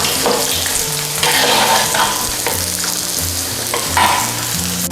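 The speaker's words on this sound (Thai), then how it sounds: "นี่ค่ะทอดให้เหลืองกรอบเลยค่ะ แบบนี้" Pork leg deep-frying in hot oil until golden and crispy, a loud, continuous close-up sizzle and bubbling with occasional stirring scrapes.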